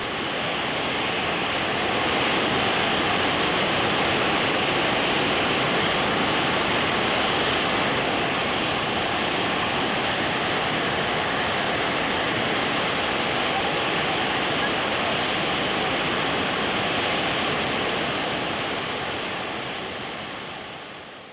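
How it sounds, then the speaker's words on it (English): Huka Falls, a series of cataracts on the Waikato River, gives a loud, dense and continuous roar of rushing water that fades in and out at the ends with no other sounds above it. "The falls are, in fact, a series of cataracts with beautifully clear water."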